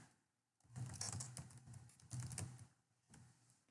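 Typing on a computer keyboard in bursts of rapid clicking, close and clear, with two longer runs of keystrokes separated by short pauses and a brief final flurry.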